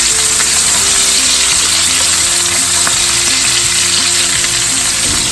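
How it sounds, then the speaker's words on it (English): Pork chops sear in a hot pan with a loud, dense, unbroken crackling sizzle, close and steady throughout with no talking. "So we're going to let that sear."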